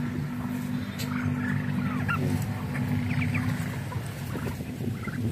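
A backyard flock of turkeys kept alongside chickens and ducks calls steadily, layered gobbling and honking clucks overlapping at close range over a constant low background, with no talk.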